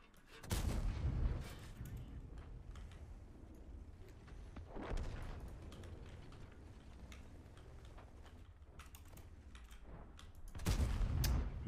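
Tank cannon fire booms in a video game with heavy low blasts at the start, middle and end, along with fainter crackling gunfire in between.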